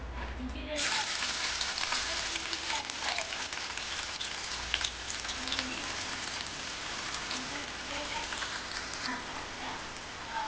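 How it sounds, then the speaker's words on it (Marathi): Onion drops into hot oil and crackles with a sudden burst of sizzling that settles into a steady, close frying hiss, with faint talk underneath. "तेल गरम झालेलं आहे आपण त्याच्यामध्ये कांदा टाकून घेऊया"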